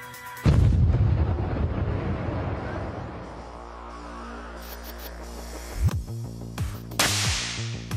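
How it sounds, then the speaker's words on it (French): Artificial lightning from a lab generator strikes a lightning rod beside a metal rod standing in for a church steeple, giving one sudden loud crack and rumbling decay, followed by a few smaller sharp snaps and clicks. "Sur 50 tirs, 50 fois, la foudre s'est abattue sur le paratonnerre et jamais sur la tige métallique qui figure le clocher de l'église."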